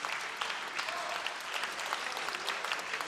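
Sustained clapping from a concert-hall crowd at a Yaroslavl interregional music festival, an even wash of many hands with scattered sharper claps, moderately loud and without talk.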